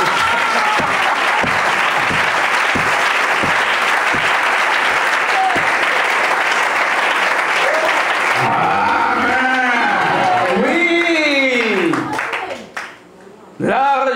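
Church crowd applauding God, loud sustained clapping filling the room, then voices cheering and singing over the fading applause.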